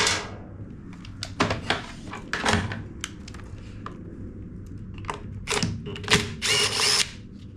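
A power driver removes bolts from an MTD Yard Machines push mower, bought new and never used, in several short, fairly loud whirring bursts separated by pauses and faint clanks.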